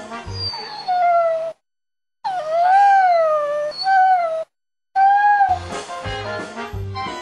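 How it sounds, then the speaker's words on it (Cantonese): A dog howls along to music in long, wavering, rising and falling cries, broken by short silent gaps, with a low musical drone and some thumping beats under the howls toward the end. "狗仔就會跟住唱歌。"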